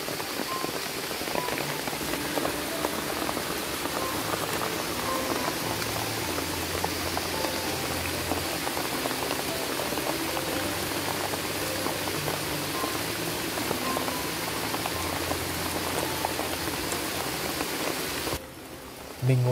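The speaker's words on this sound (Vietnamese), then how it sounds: "Bên ngoài vẫn đang mưa ầm ầm rồi." Heavy jungle rain pours down outside a shelter, a loud, steady, dense hiss of drops drumming on surfaces that continues without pause before cutting off near the end.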